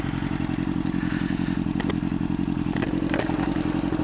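A motorcycle engine running roughly after two months of repairs, a loud, close, rapid uneven putter with occasional clattering knocks and crackles.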